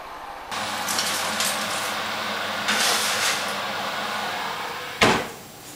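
An oven door is opened and a lamb roast of about one kilogram goes in, with a low kitchen hum and a shuffling rattle, then a single sharp thud as the door shuts.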